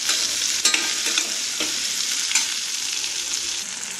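Evenly cut onion and capsicum sautéing in a hot pan, a steady bright sizzle close by, broken by several scraping stirs of a spatula, with no voices.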